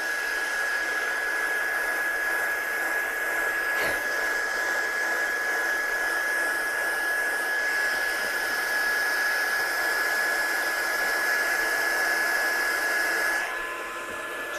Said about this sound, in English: I'm just going to dry this one off and I'll see if we can pick up that sparkle in a second.